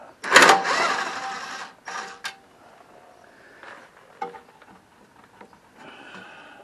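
A 10mm socket ratchet works bolts loose on a Cub Cadet 524 snow blower, with a loud burst of rapid metallic clicking up close followed by scattered lighter taps and clinks.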